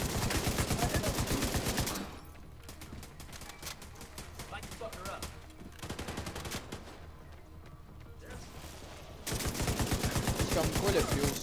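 Gunfire in the video game The Division 2: rapid bursts of automatic shots at the start and end, loud and rhythmic, with a quieter stretch of scattered distant shots between them.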